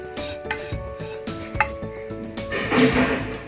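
Wheat bread pieces are tossed in ghee in a pan, with a spatula clinking and clattering against the metal in quick, close knocks. A faint sizzle builds toward the end, and no one talks.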